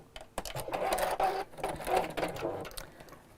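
A sewing machine runs a short burst of stitching along a quilt block seam, a close, soft rapid whirring with small pauses and shifts in pace.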